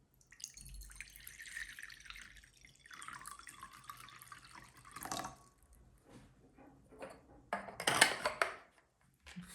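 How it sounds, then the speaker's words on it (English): Water runs and drips steadily from a tap, with splashing and clinking as it hits a basin, building to a louder gush near the end. "Listen to the sound of water."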